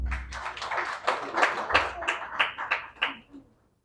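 Audience in a debate hall breaks into brief clapping, a burst of distinct claps with a few sharp peaks that thins out and stops abruptly, with a voice briefly at the start.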